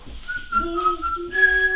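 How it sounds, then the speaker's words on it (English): A person whistling a short tune, a few clear sustained notes that shift in pitch, close and alone over faint background rumble. "why are you whistling?"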